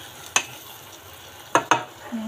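Patola and sardine noodle dish sautéing in a pan with black sauce, a low steady sizzle punctuated by three sharp spatula knocks against the pan, then a faint hum rising at the end.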